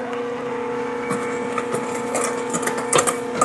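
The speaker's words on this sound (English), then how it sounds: "I'll grab a hand mixer and mix it for 7 minutes" A hand mixer whirs steadily while beating egg whites with sugar and cornstarch for meringue, a constant motor hum with a few rattling knocks of the beaters against the bowl near the end.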